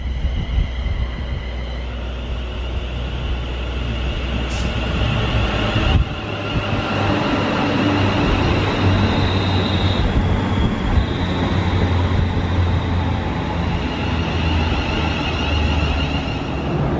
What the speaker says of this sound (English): London Euston Underground Station.